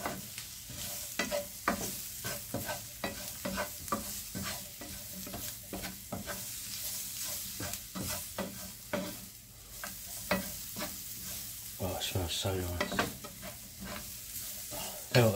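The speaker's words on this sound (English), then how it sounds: "Add them all in and stir it all together." Vegetables for chilli con carne stirred together in a hot pan, with repeated close scraping strokes over a continuous sizzle and frying crackle, no voices.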